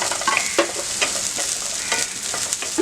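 Capsicum, green chili and paneer sizzle as they are sautéed on a high flame, with steady frying hiss and a few scraping stirs, close and without talk.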